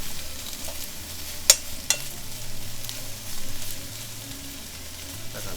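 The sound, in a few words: eggplant and konjac stir-frying over low heat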